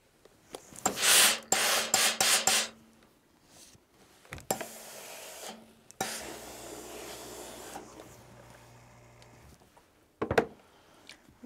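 Rotary cutter or scissors trimming the edges of a pieced quilt block on a cutting mat, a few bursts of rasping, scraping cuts separated by pauses, close and fairly loud.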